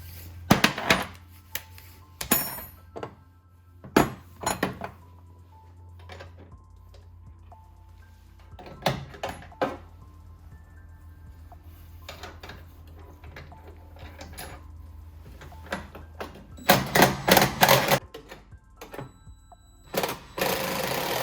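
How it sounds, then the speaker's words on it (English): Sharp metallic clicks and thunks come in scattered bursts as 19 mm wrenches tighten the bed bolts on a 2017 Toyota Tacoma while installing Rago bed stiffeners, close by, with quiet gaps between turns. "grab your 19 mil wrenches and go ahead and tighten them down."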